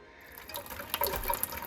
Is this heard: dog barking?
no